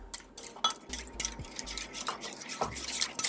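Pastry mixture with milk gets whisked in a home kitchen, giving faint, uneven scraping and clinking strokes against a bowl, with soft dull knocks in between.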